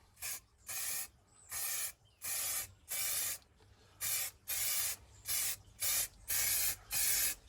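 An aerosol can of lacquer hisses in a series of short, even bursts of light mist coats on a jerry can, about a dozen spaced sprays with quiet gaps between, close and steady.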